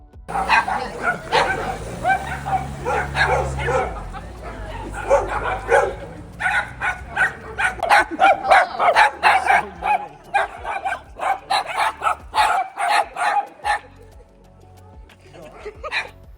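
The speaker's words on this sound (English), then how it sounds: "Angry dogs, but they all made us giggle." Several angry dogs bark in a rapid, repeated series of loud, close barks and yips, with brief pauses and a whimpering start, continuing for most of the stretch before fading near the end.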